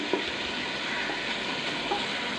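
Mutton liver roasting in a pan for kaleji masala, a continuous close sizzle with a couple of soft stirring clicks, no talking.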